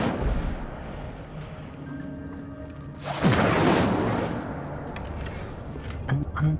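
Incendio fire spell cast in Hogwarts Legacy inside a cave: a sudden loud whooshing burst of flame erupts midway, roaring for about a second before tailing off over a low ambient background.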